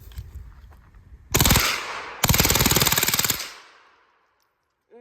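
A rifle on full auto dumps its magazine in two long, loud, rapid bursts, the second running until the gun stops firing, followed by quiet.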